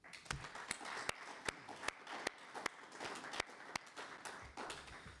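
Audience applause closes a policy talk, with scattered sharp individual claps standing out over a softer bed of clapping from a modest room, fairly quiet overall.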